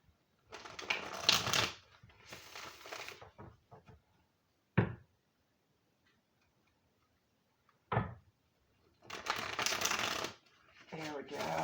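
A stiff deck of oracle cards being shuffled up close, with riffling bursts at the start and end and two sharp taps in the quiet middle stretch.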